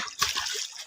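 Someone splashes in open water out in the countryside, making a brief close slosh followed by trickling and dripping water. There are no voices.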